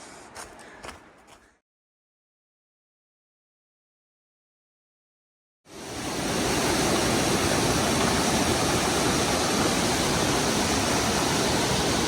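Steady, dense rush of falling water, loud and continuous after a brief silence, with a few faint muffled sounds at the very start.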